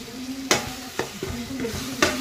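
Butter sizzles in a pan with ginger-garlic paste for pav bhaji, a low steady fry punctuated by about four sharp scraping strokes of a spoon or spatula, close and without speech.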